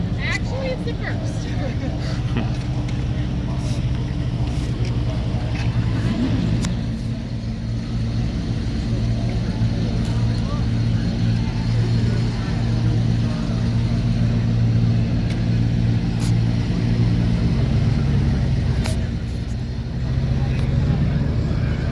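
Muscle cars rev and rumble along Woodward Avenue during drag racing at Roadkill Nights 2019, a steady, loud low engine drone with crowd and talk over it throughout.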